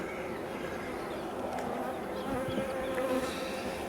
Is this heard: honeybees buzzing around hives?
yes